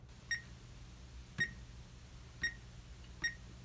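A B-129 alarm system keypad gives four short, high electronic beeps as the code is entered. The beeps are evenly spaced, about a second apart, over a quiet room hum.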